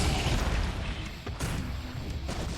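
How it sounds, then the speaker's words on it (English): Deep booming explosions in the mech video game M.A.S.S Builder, a dense rumbling roar with bursts around the middle of the clip, loud and continuous with no speech. "I should really back it up because of all those explosions"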